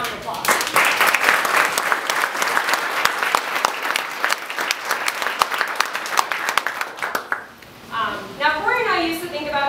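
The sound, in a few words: applause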